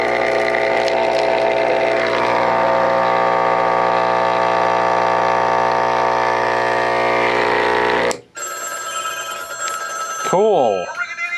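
A Seasonal Visions 400W metal-case fog machine pump runs dry with a loud, steady buzzing drone for about eight seconds, then cuts off abruptly, leaving quieter hiss and faint rising and falling tones at the end.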